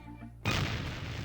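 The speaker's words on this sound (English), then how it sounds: "it's one of those new self-loading cannons I've heard so much about" Cannon fire in the video game The Curse of Monkey Island, where a self-loading cannon lets off one loud, sudden boom after a quieter stretch, with a sustained blast that fills the rest of the moment.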